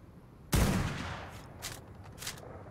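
A single loud gunshot booms in ARK Survival Evolved and rolls away into a long decaying tail, followed by a couple of faint clicks.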